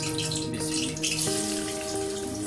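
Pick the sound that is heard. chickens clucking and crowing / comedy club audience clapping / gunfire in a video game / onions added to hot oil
onions added to hot oil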